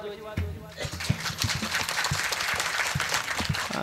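A crowd at a kirtan breaks into dense, rhythmic group clapping that carries on steadily after a brief voice at the start.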